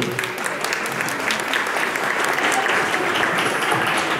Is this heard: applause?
yes